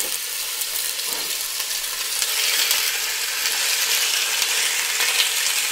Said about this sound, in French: On récupère les morceaux, on vient les saisir